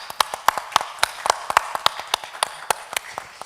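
A small audience at the Bangladesh THR Summit 2023 claps in scattered, uneven hand-claps, a sparse round of applause with sharp individual slaps rather than a dense roar, close and fairly clear.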